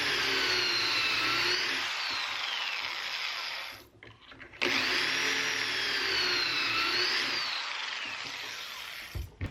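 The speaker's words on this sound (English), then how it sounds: "I'm going to be drilling those 2 holes" A power drill whines loudly and steadily while drilling pocket holes in wood boards, pausing briefly midway before starting up again for a second long run.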